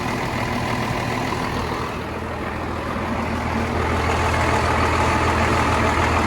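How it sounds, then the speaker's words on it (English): Running engine of an old Reo truck with a turbo breather hose, a steady close rumbling drone with a slight rise in intensity toward the end. "Turbo breather hose doing its thing"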